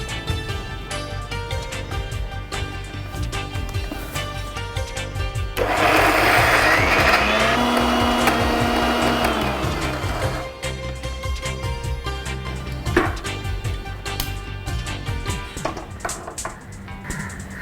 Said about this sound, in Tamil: இப்போ வதக்கி வச்சிருந்த கோவக்காவை அதோட சேர்த்து போட்டு திருப்பி மிக்ஸியில் அரைக்கணும்.